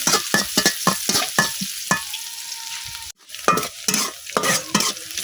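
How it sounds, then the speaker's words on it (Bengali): Five onions frying in oil, stirred with a spatula in a rhythmic series of sharp scraping strokes over a sizzling hiss, with a short pause midway before the stirring resumes. "এখন আমি তেলের মধ্যে যে দিতেছি পাঁচটা পেঁয়াজ পেঁয়াজটা কিছুক্ষণ বাজা নিলাম"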